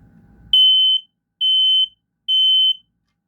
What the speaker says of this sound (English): So that's all of the alarms in the house have been tested.